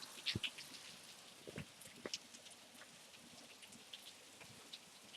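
Rain falls outdoors in Redlands, California, a faint steady patter with a few sharper drip taps scattered through.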